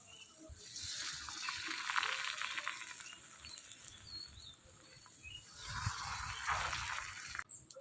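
Oil sizzling in a hot pan for an egg omelette, a soft crackling hiss that swells in two bursts and fades between them, fairly faint and heard alone.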